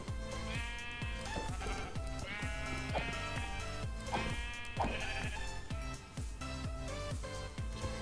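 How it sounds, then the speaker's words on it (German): Several Minecraft sheep bleat in repeated short calls over steady, rhythmic game background sound, moderately loud and with no talking. "Da oben hat es ziemlich viele Schafe."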